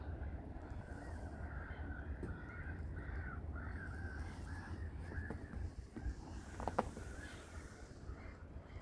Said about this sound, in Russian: Если прислушаться, то видно, как там чайки кричат.